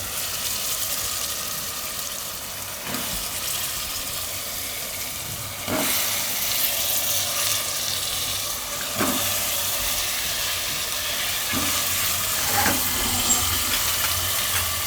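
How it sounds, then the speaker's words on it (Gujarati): Onions and potatoes fry in a pan for a Gujarati shaak, a steady broad sizzle and hiss throughout with occasional scraping stirs, close and even, with no talking. "હવે એમાં આપણે નાખી દઈશું આ ડુંગળી ને બટેટા."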